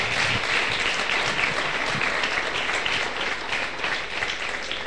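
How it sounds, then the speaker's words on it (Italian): Sustained applause from an audience at an Italian university ceremony honouring the rector, a dense, steady wash of many hands clapping at close range with no talk over it. "Un applauso ancora e grazie di cuore"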